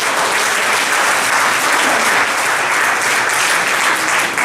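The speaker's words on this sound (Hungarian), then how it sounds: "Give yourselves a big hand." An audience claps loudly and continuously for several seconds at a bilingual motivational talk, a dense wash of applause with no gaps.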